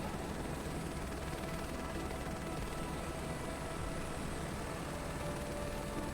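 A helicopter engine and rotor in Microsoft Flight Simulator 2024 during crop dusting, a steady droning whine and thrum holding constant throughout.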